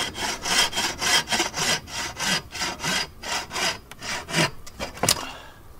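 A hand saw rasps steadily through a hardwood log in regular back-and-forth strokes, about a dozen close, loud strokes, slowing and ending with a few sharper scrapes.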